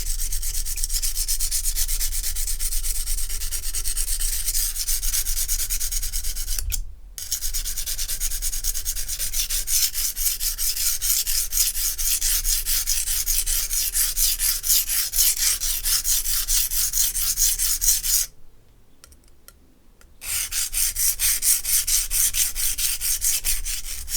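A paring knife's broken tip is reshaped against an abrasive, making a continuous loud grinding rasp that stops briefly twice before resuming.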